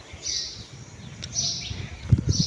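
Pigeons gathered at a village bird-feeding tower to eat grain, with repeated bright chirps and calls over soft outdoor ambience, plus a few nearby rustles and thumps.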